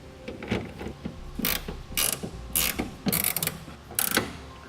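Clamps are tightened onto the rail of a BAK Revolver X2 hard tonneau cover on a 2018 Ford pickup, producing about six sharp, close ratcheting clicks in a regular rhythm with brief pauses between them.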